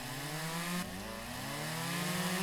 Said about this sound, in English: You're not supposed to jump with the chainsaw